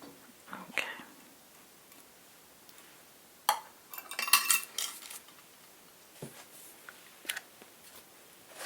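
A utensil stirs pumpkin puree batter in a bowl, making soft clinks and scraping taps against the dish at close range, irregular and gentle, with quiet whispering in between.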